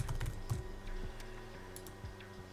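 Keys clatter on a computer keyboard as a name is typed in, a quick uneven run of close clicks over a low background hum.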